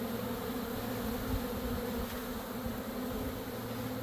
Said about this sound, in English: You can see there are just giant mounds of bees in there